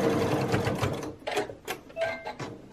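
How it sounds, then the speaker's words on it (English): A sewing machine stitches a short dart on a face mask in quick bursts of close mechanical rattling, stopping and restarting several times. "just sew a little bit of a dart here"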